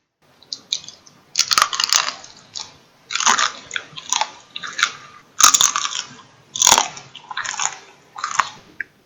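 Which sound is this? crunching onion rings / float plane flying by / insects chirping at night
crunching onion rings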